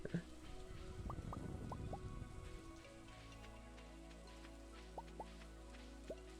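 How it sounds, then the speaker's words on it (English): Steady rain falls in a farming video game, a soft continuous hiss over about three seconds of louder low rumbling, with a few isolated chime-like game tones toward the end. "It rains every day."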